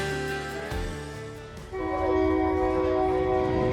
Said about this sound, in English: Welcome to the Durango Silverton narrow gauge railroad.